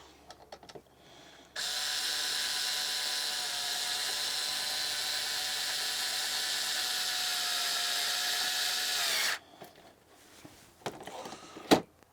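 A powered screwdriver drives a screw while a throttle is being fitted, giving one steady, loud whirring run of about eight seconds, close by, with faint handling clicks before and after.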